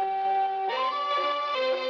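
Delay effect on a sampled melodic passage in a trap beat, a clear sustained tone shifting pitch with echoing repeats trailing behind each note, heard alone at moderate volume.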